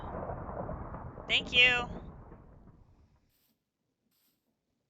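Rumbling thunder from lightning in Minecraft, a low roll lasting a few seconds that fades out to silence, with a short burst of speech over the middle.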